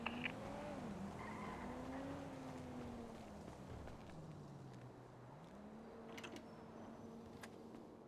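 A motorbike rides in GTA V NoPixel roleplay, its engine note rising and falling in a quiet, continuous whine with faint tire noise, heard without talk.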